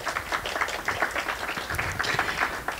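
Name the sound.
audience applause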